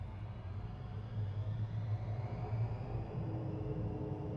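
Steady low jet engine roar of a simulated Avro Vulcan held at full throttle against the brakes, a broad continuous rumble with no voices.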